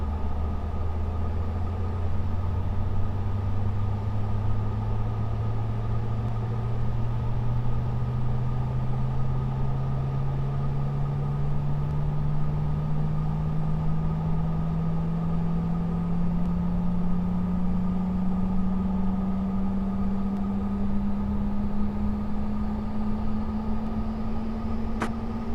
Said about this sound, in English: let's go ahead and start engine number 2